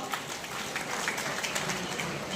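An audience at a local public event applauds in thanks to the MLA, a steady wash of many hands clapping, fairly faint and continuous throughout.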